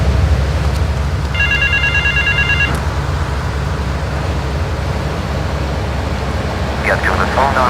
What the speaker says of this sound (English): Get to the phone on Liberty Campus.